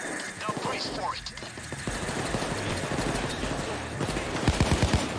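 Rapid bursts of automatic gunfire and pistol shots in the heist game Payday 2 crackle through a chaotic firefight, fairly loud and dense, with players talking over the shooting throughout.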